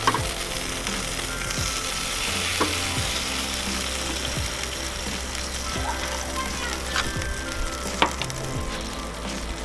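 Country style pork ribs sizzle steadily in their juices on a portable pellet smoker as they are turned, with a few sharp clicks and voices talking faintly in the background.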